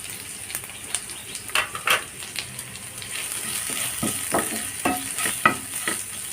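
Crushed dried red chilies frying in hot oil, stirred in the pan with a steady close sizzle and a run of sharp scraping strokes from the spoon, with no talking.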